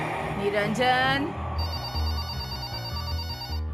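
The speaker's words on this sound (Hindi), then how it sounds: "अरे कब से फोन बज रहा है?" A telephone rings in a domestic room, its electronic ringtone repeating several times over background music from a Hindi family drama.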